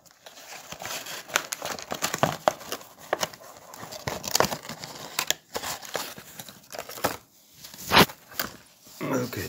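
Packaging for a Zengaz blow torch being cut open and handled, with crinkling plastic and sharp snipping and rustling bursts, close and intermittent, a voice speaking at times.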